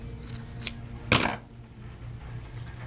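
Scissors snip through the end of a deco mesh ribbon while a cut-mesh flower wreath is being made, a few light clicks and then one louder, crisp cut, close by with a low hum behind.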